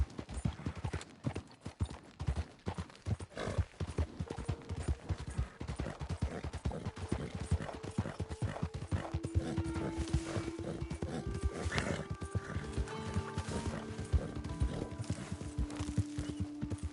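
Horse hooves clip-clopping steadily in Red Dead Redemption 2, a dense run of close, loud hoofbeats with occasional whinnies and tonal game music swelling in the background.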